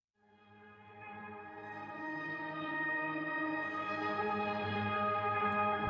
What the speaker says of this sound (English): So check out this string section.